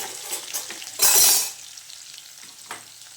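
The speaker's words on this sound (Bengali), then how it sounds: "একটু পনিরটা আমি ভেজে নিই।" Paneer frying in hot oil gives one short, loud sizzle surge. Faint stirring and utensil clinks follow in a quiet kitchen.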